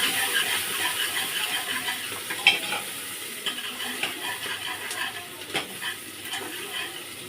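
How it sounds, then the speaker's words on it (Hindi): Cumin seeds and chopped onion frying in hot oil in a pan, a steady close sizzle with occasional clinks and scrapes of a spoon stirring. "क्योंकि हमारा तेल गर्म हो गया है। इसमें डाल देती हूँ मैं जीरा, अब इसमें मैं डाल देती हूँ प्याज"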